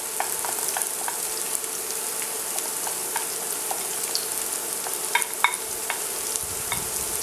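Oil in a pan of eggplant hisses and sizzles steadily, with faint stirring clicks and scrapes over the constant frying noise, close and fairly loud.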